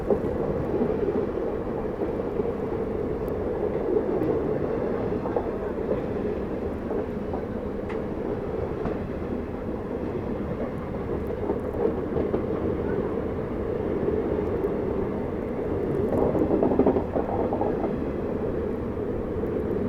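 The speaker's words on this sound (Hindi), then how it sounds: "तो ये कोई पैसेंजर ट्रेन है।" Passenger train passing near Delhi Sarai Rohilla on a cold night, a low continuous rumble of wheels and carriages, moderately loud and steady with a slight swell near the end, no speech.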